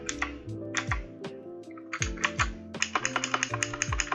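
Fingers type on a computer keyboard while a Flutter app is being built, giving quick, close, clicky keystrokes in uneven bursts over a faint background tone.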